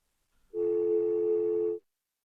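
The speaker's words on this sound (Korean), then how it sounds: "와트슨이 진동판을 다치는 소리가 또 수신기에서 울려나왔습니다" A telephone receiver sounds with a steady, loud electrical tone for about a second and a quarter as the transmitter diaphragm is plucked, close and alone with no talking.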